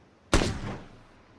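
A single sharp gunshot in the battle royale game PUBG, loud and close with a quick crack and a short fading tail, otherwise quiet.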